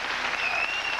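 Studio audience at The Tonight Show Starring Johnny Carson breaking into applause, a dense, even wash of many hands clapping, loud and sustained for the whole moment without talk.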